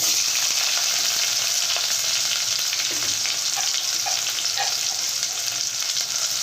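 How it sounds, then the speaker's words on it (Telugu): Garlic and onion pieces, with dried red chili and curry leaves, fry in oil for a drumstick dal tempering, producing a loud, constant close-up sizzle with faint stirring clicks and no talking. "ఇది బాగా ఎర్రగా వేగనిద్దాం చూడండి ఈ మాత్రం వేగితే"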